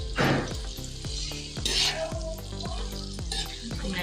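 Chicken sizzles steadily in a hot karahi while a utensil scrapes and taps against the pan in a regular stirring rhythm, close and clear.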